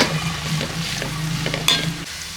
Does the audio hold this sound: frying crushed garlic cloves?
yes